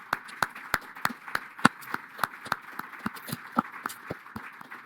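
Sparse clapping from a small audience at a Cornell Atkinson Center for Sustainability celebration, distinct individual claps in a loose, quick rhythm, moderately faint against a quiet room.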